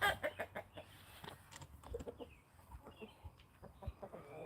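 Farmyard chickens huddled tightly together cluck in soft, uneven bursts, a close, quiet and busy chatter of overlapping short calls with no talk.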